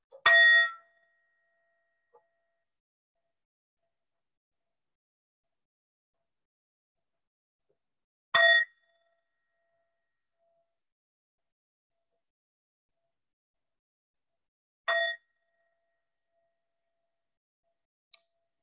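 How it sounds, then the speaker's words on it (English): A meditation bell rings three times, each clear chime fading out before a long silence, with a faint tap near the end. "I'm going to ring the bell here"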